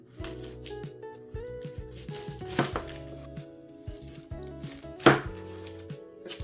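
An onion being diced with a knife: a run of close, crisp chopping strikes on a board in irregular bursts, with a louder clatter around the fifth second and faint tonal background sounds.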